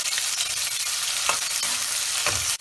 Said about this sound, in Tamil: வெங்காயம் ஒரு நல்லா ஒரு டிரான்ஸ்பரண்ட்டாக வதங்கணும், அது வரைக்கும் வெயிட் பண்ணுவோம்.